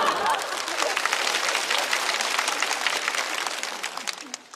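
Applause and cheering from a live stand-up comedy show audience, a loud, dense clatter of many hands that slowly tapers off toward the end.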